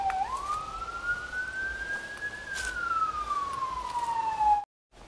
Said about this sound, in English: Had to wait for those sirens to quit.